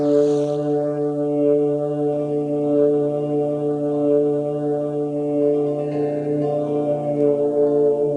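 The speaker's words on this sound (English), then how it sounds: "Other than the lowing of the huge black foghorn" A deep, sustained foghorn blast drones on continuously, a loud low moaning tone with rich harmonics and no break.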